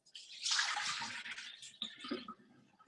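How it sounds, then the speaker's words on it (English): Rice grains swished and rubbed by hand in a bowl of water, a steady close splashing and sloshing that rises quickly then continues in softer swirling bursts, with no talk. "we wash the rice, we don't want to crush it down and damage the grains"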